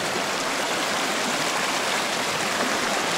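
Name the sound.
water of the Nister river flowing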